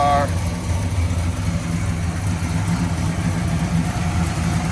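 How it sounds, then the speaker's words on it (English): A 1967 Pontiac GTO four-speed engine idles with a deep, steady rumble throughout, close and fairly loud, while a person talks over it. "Very strong running car."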